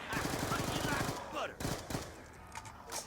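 An AK rifle in Black Ops 2 Zombies fires a rapid automatic burst of evenly spaced shots, followed by scattered single shots and impacts, close and fairly loud.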